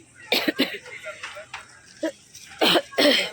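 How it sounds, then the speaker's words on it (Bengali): A woman with a badly sore throat coughs in several sharp, close bursts separated by short pauses, with some hoarse vocal sounds between them. "আমার গলার অবস্থা এতই খারাপ যে আমি কথা বলতেও পারছি না প্লাস ভীষণ কাশি হচ্ছে"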